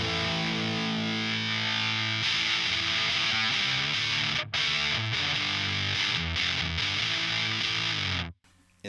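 A Donner fuzz pedal on electric guitar with its tone knob turned all the way up gives a bright, crispy distorted tone. Sustained chords ring loud and continuous, with a brief cut midway and a stop near the end.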